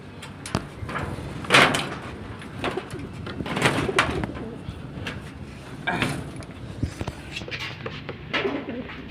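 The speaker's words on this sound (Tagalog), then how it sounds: "Papakita, ito po yung mga kalapati ko po." Pet pigeons coo and flutter in a backyard loop, soft repeated calls rising in short bursts with occasional bumps and a door-like rattle, while a person murmurs faintly nearby.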